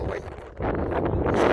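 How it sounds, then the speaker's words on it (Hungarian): Strong wind blows across the microphone outdoors, a broad continuous roar that gusts louder toward the end. "Megint föltámadt ez az erős szél"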